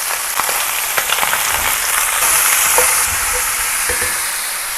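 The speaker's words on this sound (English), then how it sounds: "We will now just fry all of these ingredients nicely together for a little while." Carrots and leeks frying together in a pan, a loud continuous sizzle with occasional pops and stirring scrapes, up close and without talking.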